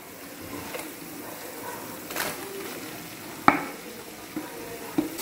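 Onions frying in a pan with chili powder and curry leaves for chicken chukka, a quiet continuous sizzle broken by a few sharp clinks of stirring.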